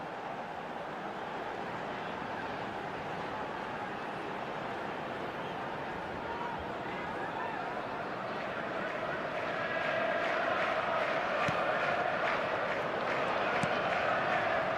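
Steady stadium crowd roar from a PES football video game simulation of Manchester City vs Arsenal, a dense continuous wash of fans that swells slightly louder midway and holds throughout.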